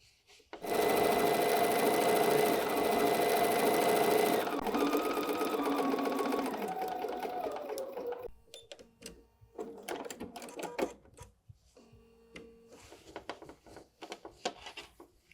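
A sewing machine stitches a fabric pillow wrap with a loud, fast, continuous whir for several seconds. It then slows into shorter, softer bursts and pauses of handling and fabric rustle.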